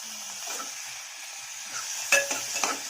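Tomatoes and onions with salt being sautéed for mutton soup, a soft continuous sizzle with a few light spatula scrapes and clinks against the pan near the end, no voices.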